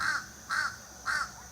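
Harsh, repeated caws from an American crow in a park, three evenly spaced calls in quick succession, clear and moderately close against a calm background.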